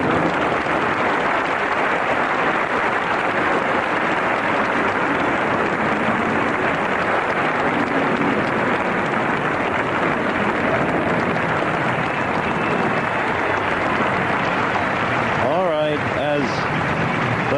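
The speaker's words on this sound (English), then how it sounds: "Tournament trophy is held aloft by Yvonne Lendl to the applause of the crowd." Sustained, even applause from a large outdoor tennis crowd fills the trophy ceremony of the 1985 Forest Hills final, with a brief rising sweep of sound near the end.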